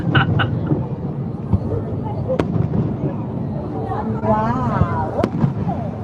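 A Canadian fireworks display booms and crackles continuously, with sharp cracks and rumbling blasts layered over a dense, loud wash of noise and crowd murmur.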